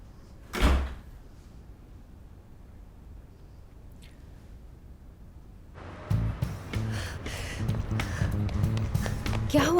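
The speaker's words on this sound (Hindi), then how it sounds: "दरवाजा कस के बंद करके जाऊंगा।" A door is shut firmly with one loud, close thud, then a stretch of quiet room tone; a few seconds later busier sounds and voices start up.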